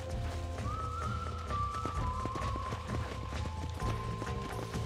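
Horse hooves clip-clop in a steady rhythmic gait in the Western video game Red Dead Redemption, under a sustained musical score.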